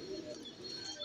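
Iranian highflyer pigeon, a female settled after a long morning flight, cooing softly and continuously for a brief moment, close and faint with no talk.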